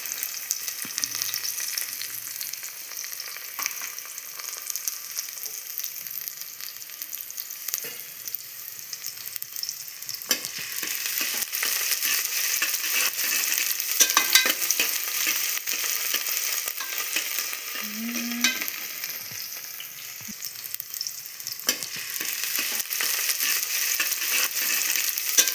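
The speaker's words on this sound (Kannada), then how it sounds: "ಕಟ್ ಮಾಡಿದಂಥ ಉಳ್ಳಾಗಡ್ಡಿ ಟೊಮೆಟೊನ ಫ್ರೈ ಮಾಡಿ ನಾವು ಬ್ರೌನ್ ಕಲರ್ ಬರೋ ಹಾಗೆ" Chopped onion and tomato frying in a pan until browning, a loud, continuous crackling sizzle with occasional stirring scrapes throughout, no voices.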